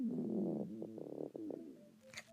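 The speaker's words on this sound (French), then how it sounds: "Son ventre gargouillait." A hungry stomach gurgles and rumbles in a low, bubbly run of squelches that fade out, ending in a brief higher squeak, close and with no talk.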